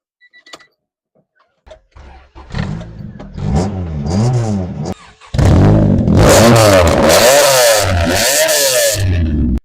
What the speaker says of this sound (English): So needless to say, this car does run.